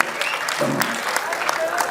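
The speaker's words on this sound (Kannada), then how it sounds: "ಜೋರ್ ಚಪ್ಪಾಳೆ." Applause from an audience at a film event, a dense burst of clapping close by and fairly loud, with a voice speaking over it.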